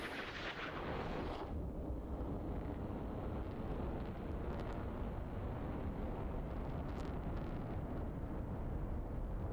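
High drag bombs from an F-4E in a flight simulator game detonate as a heavy, rumbling roar that sustains under constant wind-like noise, with a few distant crackling bursts and no talk.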